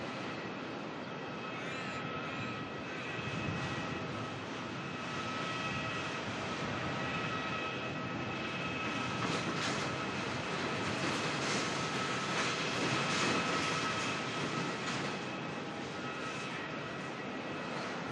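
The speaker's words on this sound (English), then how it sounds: "787 Dreamliner coming in from Shanghai." A China Eastern Boeing 787 Dreamliner arriving from Shanghai at Melbourne makes a steady, loud broadband engine roar that holds for the whole stretch and swells slightly toward the end.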